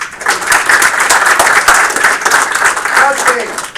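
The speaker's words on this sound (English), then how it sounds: "Give me a round of applause." An audience at a game studio build review claps in a loud, continuous wash of applause for nearly four seconds, a voice faintly audible beneath it near the end.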